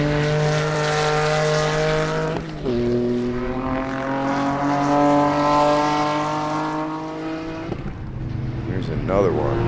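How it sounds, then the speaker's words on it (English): A Porsche 911 race car in a Sebring endurance race roars past close by, its engine note sweeping down sharply as it passes, then a second car follows with another pitch drop, loud and continuous. "beautiful 911 Porsche"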